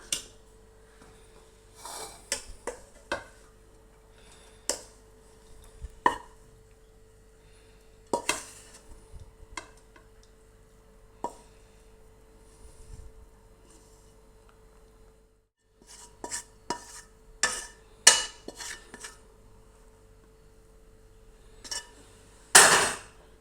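Bread chilli being stirred and mixed in a pan, a spatula scraping and clinking against metal in scattered bursts over a steady faint hum, with a brief pause midway.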